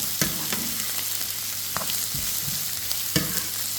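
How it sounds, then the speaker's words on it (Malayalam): Vegetables sizzle steadily in a hot pan while being sautéed for noodles, with sharp utensil scrapes and clanks at irregular intervals over a constant close frying hiss; no one talks. "ഇനി നമുക്കിതൊന്ന് വഴറ്റിയെടുക്കാം."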